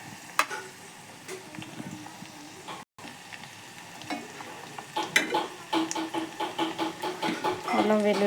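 Ginger garlic paste fries with a soft sizzle in a pan while a spoon stirs and scrapes in quickening rhythmic strokes, close by, with a brief dropout early on.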